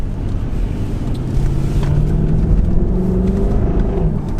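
A 4.2-litre supercharged V8 engine in a high-mileage Jaguar XKR drones steadily from inside the cabin, a low rumble with a gentle rise in pitch as it accelerates.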